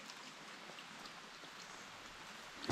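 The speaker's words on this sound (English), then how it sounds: "It's raining again." Soft, steady rain falling in the Alaskan outdoors, a faint continuous patter with no voices, ending in a brief louder tap.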